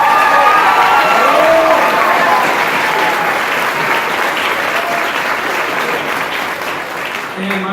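Loud, dense audience applause fills a school band and choir concert hall after a student's solo, steady and sustained before tapering slightly near the end, with some crowd noise mixed in.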